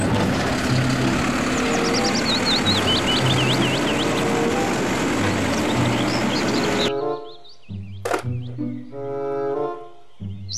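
A toy garbage truck runs with a loud, steady, noisy whir for about seven seconds, with chirpy tones over it, then cuts off into quieter tonal sounds.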